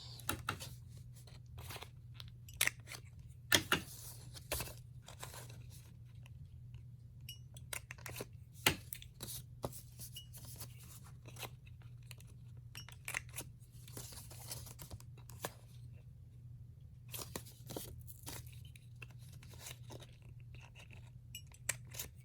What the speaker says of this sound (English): Go ahead and round the corners.